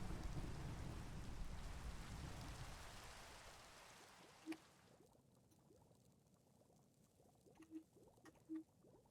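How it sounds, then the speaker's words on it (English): Steady thunderstorm rain in the game Minecraft, a dense hiss of pouring rain that is loudest early and thins out, with a few brief soft pops near the end and no talk. "Oh, wait, that's a thunderstorm."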